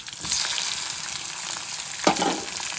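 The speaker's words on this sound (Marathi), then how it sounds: "आता टमाटर टाकायचं याच्यामध्ये" Chopped tomatoes frying in a pan for a home-cooked dish, a loud continuous sizzle with a single stirring scrape near the end.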